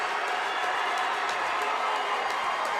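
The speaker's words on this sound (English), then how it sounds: "New London crowd on their feet." Basketball crowd on its feet cheering and roaring steadily at a New London boys sectional game, a dense continuous wall of voices with scattered claps throughout.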